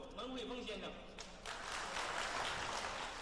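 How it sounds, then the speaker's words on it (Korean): Crowd applause at a martial arts launch ceremony held at a Beijing sports school, a broad wash of clapping swelling after a brief stretch of speech and continuing loudly to the end. "유난히 큰 박수를 받는 이 사람."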